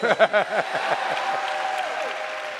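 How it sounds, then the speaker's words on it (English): Scattered applause from a crowd follows a brief burst of voice, claps pattering steadily and fading slightly over a couple of seconds. "You should clap for me right there."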